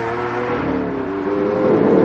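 Lamborghini Aventador cruising on a quiet open country road, its engine a steady, continuous drone with a slowly shifting pitch, close and fairly loud throughout, with no talking.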